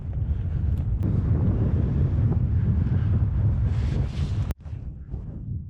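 Strong wind on a remote desert road in Jordan buffets the microphone in a steady low rumble, dropping off briefly before gusting again.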